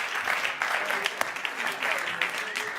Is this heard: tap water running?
no